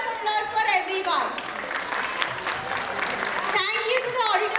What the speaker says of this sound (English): big round of applause for the team